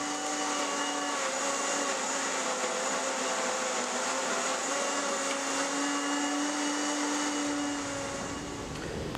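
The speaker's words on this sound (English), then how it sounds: "mixing it in the blender to have a really mixed up stuff" Blender whirring steadily as it mixes antimony trioxide powder with sulfur, a loud continuous motor drone with a constant pitch that eases slightly at the very end.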